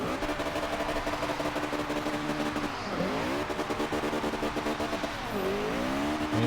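A classic Mini in Forza Horizon 2 launches hard, its engine droning loud and steady with tires squealing, the pitch dipping and sweeping back up twice as it shifts gears, with no talk over it.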